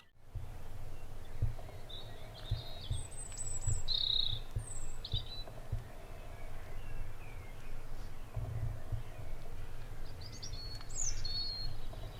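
Scattered bird chirps and short whistled calls ring out over a steady low rumble of outdoor background noise.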